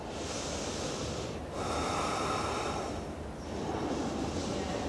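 Deep, steady breaths during a standing yoga twist with the back heel lifted, broad airy rushes in long cycles, close and clear, with brief dips between breaths and no talking.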